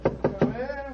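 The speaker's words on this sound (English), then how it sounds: "Let's tap on his study door." Three firm, evenly spaced knocks sound on a wooden study door in a radio mystery drama, close and distinct, followed by a brief trace of a voice.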